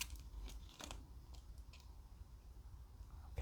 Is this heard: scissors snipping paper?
yes